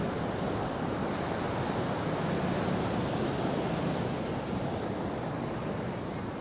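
Ocean waves on Da Nang beach under a grey sky, a continuous broad roar of surf with wind noise, steady and moderately loud with no distinct breaks between waves.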